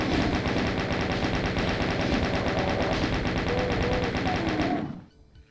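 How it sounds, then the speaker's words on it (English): Guns blaze in Doom II during a level in the pit as ammo is spent, a fast, loud, continuous stream of shots lasting about five seconds before cutting off abruptly, with no talking. "I'll try and use up some of this ammo here."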